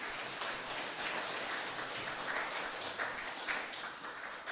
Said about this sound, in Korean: 우리 옆에 있는 분들 박수로 환영했으면 좋겠습니다